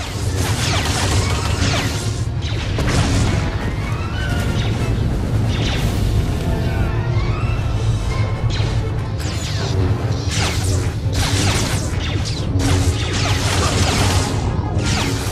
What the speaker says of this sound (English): here we have our first lightsaber on lightsaber battle